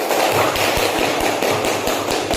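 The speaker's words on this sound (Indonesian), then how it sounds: "Beri aplaus untuk kelompok jujur" Classroom applause for a student group after a presentation, a steady patter of many hands clapping together with a few sharper single claps, fairly loud and continuous throughout.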